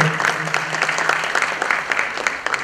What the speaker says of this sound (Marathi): एकदा जोरदार टाळ्यांचा कडकडाट अर्चनाजींसाठी